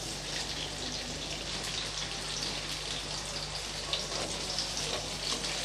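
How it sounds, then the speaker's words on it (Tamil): Brinjal pieces sauté in hot oil in a pan, a steady, even sizzle and crackle that holds constant throughout at moderate distance, with no talking. "எண்ணெய் சூடானதும் இப்போ இதில் நம்ம கத்திரிக்காயை சேர்த்து நல்லா வதக்கிக்கலாம்."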